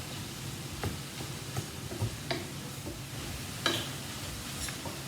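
Onions frying in a pan for an egg roll in a bowl, a steady low sizzle running throughout with scattered light ticks and clinks of a utensil against the pan.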